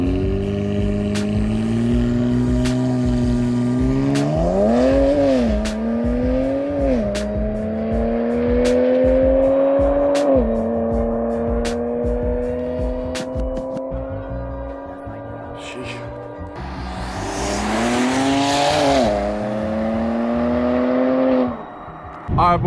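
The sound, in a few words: BMW E9x running ethanol mix accelerating hard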